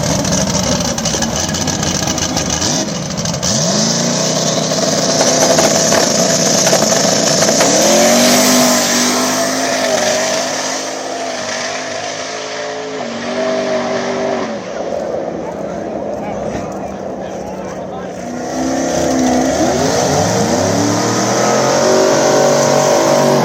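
A turbo Camaro drag car revs and launches down the strip at a Mooresville drag radial event, its engine loud and rising in pitch while an announcer talks over it.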